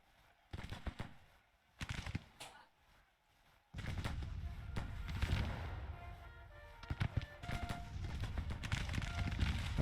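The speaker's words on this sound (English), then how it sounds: "they're firing on us down here" Musket and artillery fire in a Grand Tactician 1864 Civil War battle: sharp cracks and bursts that build into rolling, layered volleys. The barrage starts sparse and turns dense and continuous, with a faint voice under it.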